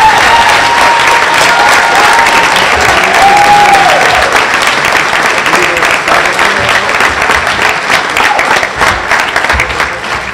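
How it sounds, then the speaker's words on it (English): A crowd at a breast cancer fundraising kick-off event applauds loudly and steadily throughout, a dense wash of clapping with a few cheers and a voice briefly heard underneath. "Let's give these men a huge round of applause"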